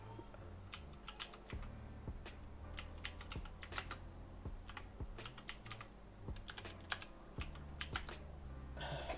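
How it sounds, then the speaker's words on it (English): Typing on a computer keyboard close by, with busy bursts of key clicks and short pauses. The sound is faint overall. "I should be getting better at typing considering I use a computer all day."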